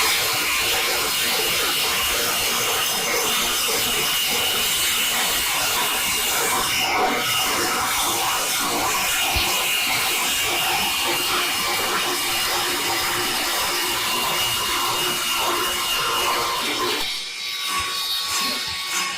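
An orbital weld prep tool on an AXXAIR system cuts steel tubing as it is rotated by hand wheel, giving a steady, loud, continuous grinding whir for the whole stretch with no talk over it.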